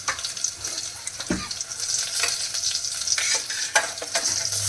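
Turmeric stirred into hot oil with curry leaves and asafoetida, sizzling loudly up close as a spoon scrapes and knocks against the pan in short irregular strokes, with no talking.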